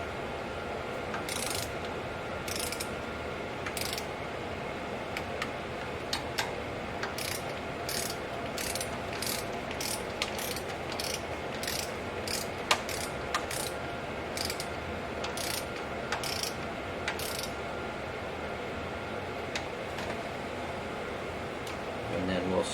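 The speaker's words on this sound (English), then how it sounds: "I'm actually using an inch-pound torque wrench because it's such a low torque value" Ratcheting inch-pound torque wrench clicking in repeated quick bursts while tightening low-torque bolts on a 2007 Chevrolet Avalanche 5.3 LS engine, sharp metallic clicks over steady shop background noise.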